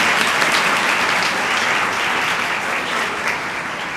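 Audience at a church youth festival gives sustained, dense applause, steady and loud throughout, with no talking over it.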